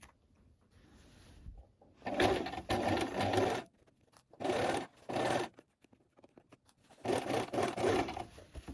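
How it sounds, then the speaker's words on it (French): A sewing machine with a denim needle stitching back darts on denim fabric, running in several bursts of rapid whirring separated by short pauses, close and clear with no voices. "vous allez coudre la pince dos, enfin les 2 pinces dos"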